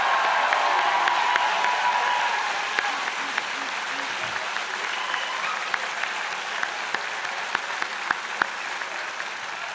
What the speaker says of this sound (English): how about one last huge round of applause and cheer for all the graduating class of 2019.